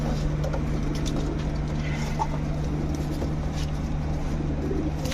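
Pigeons in a pigeon shop coo softly over a constant low mechanical hum, with scattered faint fluttering and shuffling sounds close by and no talking.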